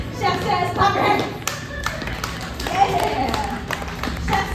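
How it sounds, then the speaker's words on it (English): Children clap their hands in a game at a Cookie Monster pizza party, loose, uneven bursts of nearby clapping with young voices chattering over them. "Chef Says, clap your hands."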